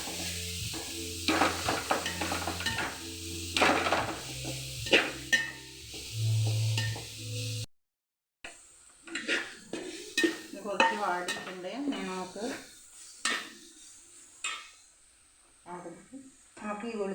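Jackfruit for cutlets sautés in a pan, with gentle sizzling and scraping, clinking stirs, while a voice talks over the cooking and the sound cuts out briefly midway.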